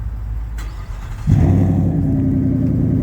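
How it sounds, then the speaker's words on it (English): A diesel truck engine cranks and catches at about one second in, then settles into a loud, steady low rumble at idle, close by. "Let's listen to the diesel start up."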